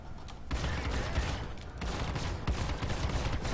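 Laser cannons on an Aurora LN ship in Star Citizen fire in a steady, dense barrage, a continuous rattling stream of shots with brief louder bursts, close and loud with no talking.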